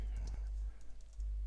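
Light keyboard typing entered while setting up a demo CRM environment, a few soft key clicks over a steady low hum with no talking.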